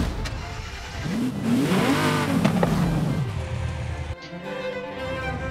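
A Ferrari P4 race car in Forza Horizon 5 revs up and down, its engine note rising sharply then falling away over a few seconds, loud and close with no voices.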